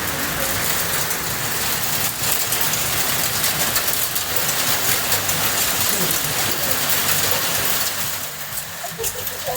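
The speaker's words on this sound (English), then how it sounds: "Well, the rain is chasing us." Rain pelts a car driving near Telluride, Colorado, a loud dense patter over road and engine rumble, continuing steadily throughout and easing slightly toward the end, and a voice is faintly present underneath.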